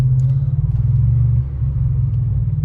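A 2012 Ford F-150 fitted with an ARH catback exhaust burbles at idle, a deep, steady, rumbling throb close by with a slight dip midway and no talk over it.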